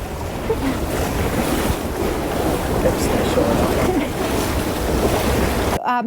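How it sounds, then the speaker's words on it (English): Wind gusting over a sailing boat heeling on the west coast of Scotland, a loud continuous rush of wind and water against the hull that buffets the microphone, ending abruptly. "there's a little gust coming down, everybody, so don't yell at me this time when the boat heels over"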